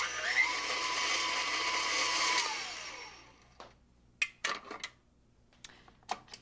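An electric mixer beats lemon poppyseed cake batter on medium speed, a steady loud whir that runs for about three seconds and then winds down, followed by a few scattered clinks and knocks.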